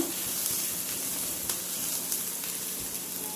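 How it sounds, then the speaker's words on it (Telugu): Onions frying in a pan with salt and ginger garlic paste give a steady, dense sizzle throughout, close and continuous, with a few faint stirring clicks and no voices. "ఇంకా 2 minutes అట్లాగా ఫ్రై చేసుకుందాం, జస్ట్ అలాగా."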